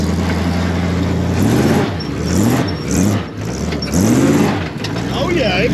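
Chevy Mule 350 engine revving hard as the vehicle pulls a wheelie, a loud sustained roar rising and falling in pitch through several throttle surges, with people talking over it.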